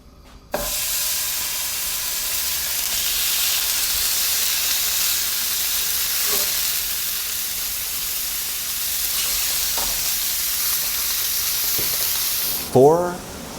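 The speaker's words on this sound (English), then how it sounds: "let's throw these steaks on for a sear" Steaks seasoned with onion powder sizzling as they sear in a hot pan, a loud steady hiss and crackle lasting over ten seconds, with a brief voice near the end.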